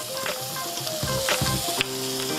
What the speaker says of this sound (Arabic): عندي البصل ببدا اللي انا اشوحه كويس جدا